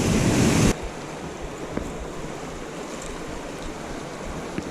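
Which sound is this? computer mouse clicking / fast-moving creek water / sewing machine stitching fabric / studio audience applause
fast-moving creek water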